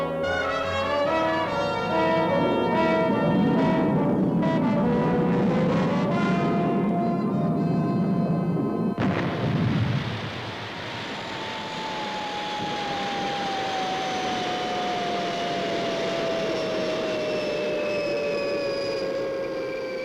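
Fireball XL5 spaceship firing its retro rockets and coming in to land on a landing pad, a loud roaring blast with a tonal, horn-like drone that cuts off abruptly, followed by a lower steady rumble and a descending whine.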